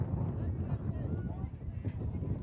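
Strong wind gusts of over 25 miles an hour batter the microphone at an outdoor club championship ultimate frisbee game, a constant heavy low rumble with no breaks.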